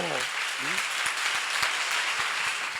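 Seminar audience applauding, a dense sustained wash of many hands clapping at moderate distance, with a preacher's voice briefly heard over the start.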